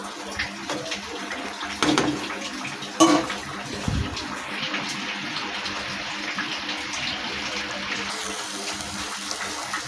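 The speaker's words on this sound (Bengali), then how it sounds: "তো আমি এখানে আরেকটু জল দিয়ে দেবো" Water poured into semolina for a savoury sweet-spicy suji snack, a steady close splashing pour with a few louder gushes partway through, running continuously.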